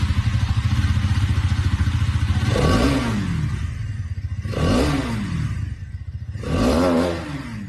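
A 2023 Hero Karizma XMR 210 motorcycle engine idles with a steady throb, then revs up three times in sharp bursts, each climbing and falling back, close and loud.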